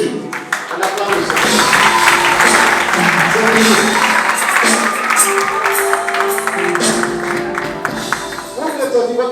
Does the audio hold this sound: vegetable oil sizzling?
no